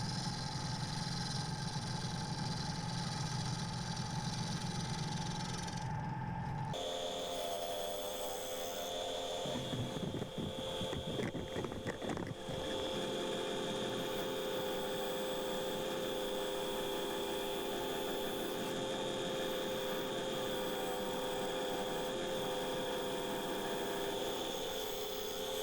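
A wood lathe spins a yew blank at 1400 RPM with a steady mechanical hum and drone that shifts tone partway through, continuous and with no voices.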